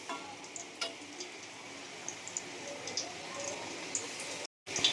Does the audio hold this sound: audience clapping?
no